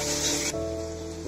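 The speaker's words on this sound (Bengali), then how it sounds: "এখন দিয়ে দিচ্ছি কিছু কাঁচা পাকা কাঁচা মরিচ, হালকা একটু কষিয়ে" Green chillies, some ripe and some unripe, hit spiced mustard oil in a pan for a light frying. A loud, steady sizzle plays alone, briefly bright and hissing, then settles to a lower crackle.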